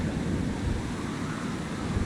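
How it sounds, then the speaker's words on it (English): Steady, rushing wind noise with a low rumble, constant and fairly loud throughout, no voices, from stormy weather in Minecraft. "Yep, starting to get a little windy."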